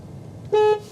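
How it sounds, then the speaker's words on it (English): A VW ID.3 car horn gives one short, loud, steady honk from inside the car. It starts suddenly halfway through and lasts about a quarter second over a quiet cabin hum. "Steering wheel buttons, of course, in the middle, honk"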